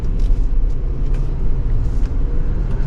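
A 2024 Range Rover P530 with a V8 engine, heard from inside while driving as a steady low rumble of engine and road noise, moderately loud and continuous with no talking.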